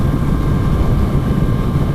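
Steady low roar from the exhaust of a 2018 Kawasaki Z900RS under way, holding an even drone throughout, mixed with wind rush.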